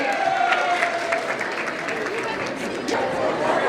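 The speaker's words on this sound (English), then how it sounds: "Huge round of applause for Dr. Rangala, please. Everybody give a big hand." Audience applause at a Chinmaya Mission fundraising banquet, a steady wash of clapping from a crowd, moderately loud and continuous, mixed with chatter and a few cheers.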